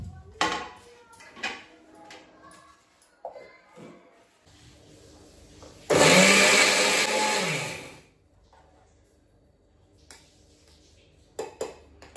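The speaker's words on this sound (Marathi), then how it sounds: "आता आपण मिक्सरच्या भांड्यामध्ये बारीक करून घेऊया" Utensils clatter and clink, then a small-jar mixer grinder roars loudly for about two seconds while grinding chai masala spices and stops, followed by more light clattering.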